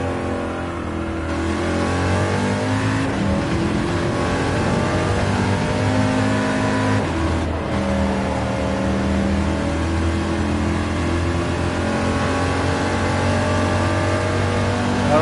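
Race car engine in Gran Turismo 7 screaming at high RPM, a loud sustained harmonic whine that climbs and holds through the upper rev range, briefly dipping for a gear change midway before rising again.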